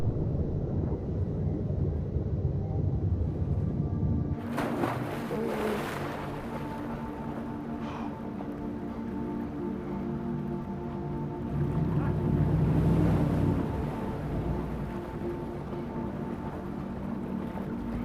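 A boat engine on water in Max Payne 3, a low rumbling drone with wind and splashing layered over it, steady and moderately loud, swelling toward the end with no clear talk.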